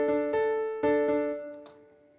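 Notation-software playback of tied notes in MuseScore: a short phrase of clean, sustained pitched notes, with a few distinct onsets and held tones that ring on and fade toward the end, no voices.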